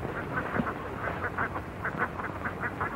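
Ducks quack repeatedly in a 1940 drama film scene, a steady run of nasal calls over a noisy outdoor background, moderately loud with no talking.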